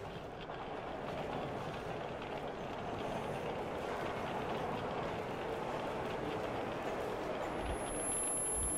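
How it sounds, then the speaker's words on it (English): A train rumbling through in the video game Metro Exodus, a steady, faint low roar that holds evenly from start to finish without clear clacks or other sounds. "I'm like feeling a train go through"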